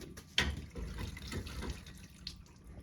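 Engine fluid drains from a Ford Grand Marquis 4.6L V8 into a drip pan in a garage, a soft, steady trickle and splatter of liquid close by with a brief sharper splash near the start.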